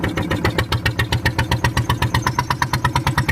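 A boat engine chugs in a fast, even rhythm of regular pulses, running steadily and close by on a river trip near the mangroves.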